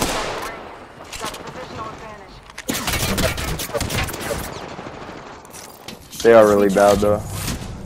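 Gunfire in a ranked shooter video game: bursts of rapid shots come and go, mixed with a player talking and other voices over the action.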